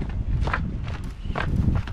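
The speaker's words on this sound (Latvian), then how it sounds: "Skrienam lejo." Quick footsteps hurry down a flight of stairs, a rapid run of close, thudding steps with a brief pause midway.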